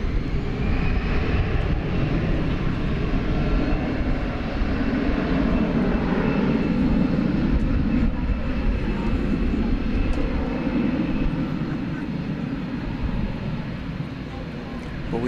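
The engines of an American Airlines Airbus A300 jet roar steadily and loudly at an airport, then ease off slightly toward the end. A voice talks over the noise.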